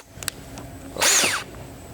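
A power drill bores new holes during steering and console repairs, a brief rising whine of about half a second after a couple of small clicks, close and alone.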